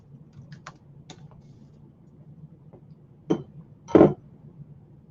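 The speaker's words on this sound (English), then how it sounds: "I think I type like 96 words a minute" Someone types on a computer keyboard while working on book edits; sparse light key clicks sit over a low background hum, with two louder clustered taps near the end, and no talking.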